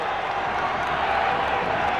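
A large football stadium crowd at the 2005 FA Cup quarter-final between Bolton Wanderers and Arsenal: a continuous, even roar of many voices, distant and diffuse, with no distinct cheers standing out.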